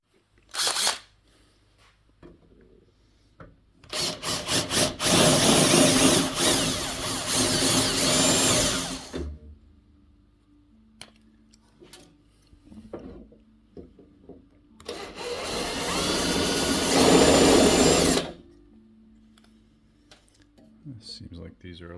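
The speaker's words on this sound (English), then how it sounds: "First things first, let's drill this up." Two long bursts of loud power drilling through aluminum rivets on a car's driver door, each several seconds, separated by quieter clicks and handling noise.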